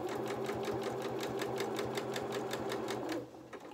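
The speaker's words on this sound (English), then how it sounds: "Just line my machine up. A couple of stitches forward. And back." A sewing machine stitching wool coat fabric runs in a fast, even rapid-fire chatter of needle strokes for about three seconds, then stops, close and clear.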